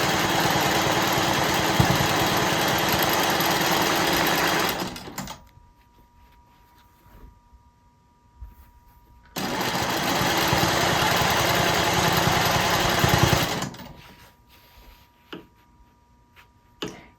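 Sewing machine stitching a quilt border along a ruler, its motor whirring in two steady bursts of about five seconds each, with quiet pauses in between.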